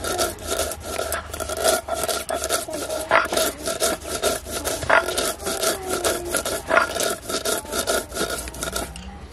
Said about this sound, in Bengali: এবার আমি এই সর্ষেটাকে বেটে নেব।